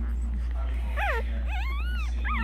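A three-day-old Boston Terrier puppy cries in rising and falling whimpering wails, several close high-pitched calls over a steady low hum.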